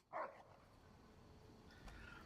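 Rex, the dog in the Fallout video game, lets out one short, sharp bark up close, followed by a low, steady background hum with no further barking.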